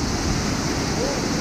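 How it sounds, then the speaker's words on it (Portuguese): A waterfall at the Recanto Pinhão leisure spot pours with a steady, dense, close rushing roar that holds constant throughout. "Olha que linda essa cachoeira!"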